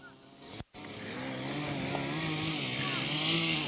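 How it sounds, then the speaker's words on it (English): A chainsaw cuts timber during an agri-sports contest, a steady droning engine roar held at constant pitch for several seconds after a brief dropout, heard from a moderate distance beneath a commentator's voice. "The veteran Alex Field still on the chainsaw."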